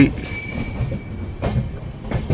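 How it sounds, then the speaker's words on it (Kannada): A Mysore–Chennai superfast express rumbles into KSR Bengaluru station, with a steady close rolling clatter of wheels on rail and some faint high squeal. "KSR ಬೆಂಗಳೂರು ರೈಲ್ವೆ ಸ್ಟೇಷನ್ಗೆ ನಮ್ಮ ಟ್ರೈನ್ ಎಂಟ್ರಿ ಆಯಿತು."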